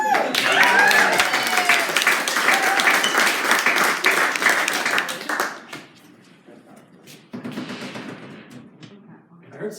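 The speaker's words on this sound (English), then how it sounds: "Give it up for the very funny Paul Weiner." Comedy club audience bursts into dense, loud applause for a comedian. The clapping holds for about five seconds, then drops away as a voice speaks, with a brief smaller round of clapping afterward.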